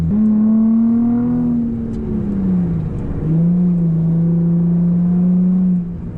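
A Nissan 350Z's VQ engine holding a steady, droning rev with a brassy, trumpet-like tone, dipping slightly midway then climbing back, loud and close, no voices.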